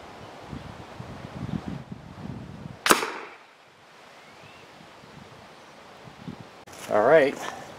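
An FX Impact .25 caliber air rifle fires a Varmint Knockers 31.5 grain hollow point into a block of 20% ballistic gel at 50 yards, one sharp crack standing out from outdoor wind and ambient noise.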